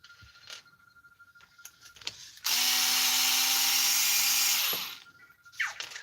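Cordless power drill backing screws out of a Redcat Kaiju RC car, one sustained high whirring burst of about two seconds, close, with light handling clicks before and after.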